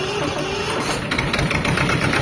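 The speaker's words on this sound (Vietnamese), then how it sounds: "máy nổ quá êm, quá sướng ha" A newly delivered tractor's diesel engine idles steadily and evenly nearby, a continuous mid-pitched rumble with faint knocking pulses and no speech over it.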